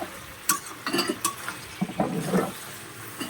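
Eggplant and mixed vegetables being stir-fried in a pan: a soft sizzle under a few scraping stirs and light clinks of a utensil against the pan, close and moderately quiet.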